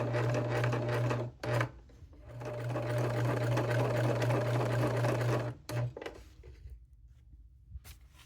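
A sewing machine stitches the final side seam of cycling bibs in close, steady runs: a short burst, a brief blip, then a long continuous stretch and one more quick burst before falling quiet.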